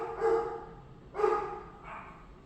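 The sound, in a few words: dogs barking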